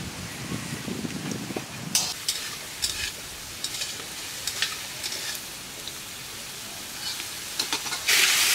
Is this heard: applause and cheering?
no